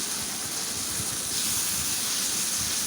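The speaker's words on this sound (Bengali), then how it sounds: "এখন মশলাটা আমি ভালো করে কষিয়ে নেব।" Spice paste with ginger-garlic paste, coriander powder, a little water and green chilies sizzling in a pan for Cox's Bazar-style loitta fish bhuna, a steady close hiss with faint crackle throughout.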